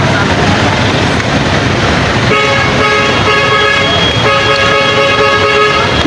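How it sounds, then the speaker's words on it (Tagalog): Car horns honk in two long blasts over loud, rushing road and engine noise, with voices faintly under the din. "bubusi-busina na"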